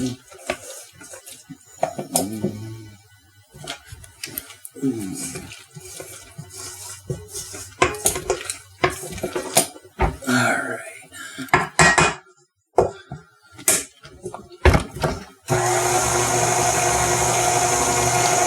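A spatula scrapes and clinks around a mixing bowl of lemon cookie dough in a home kitchen, in irregular close strokes, ending with a steady rush like running water.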